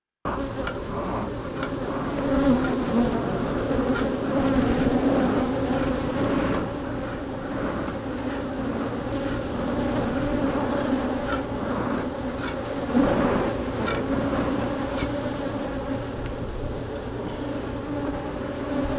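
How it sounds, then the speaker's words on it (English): Many honeybees buzz around a hive in a continuous, dense drone, loud and close, swelling slightly now and then over the whole stretch, with no speech. "I'm gonna get the bees to calm down"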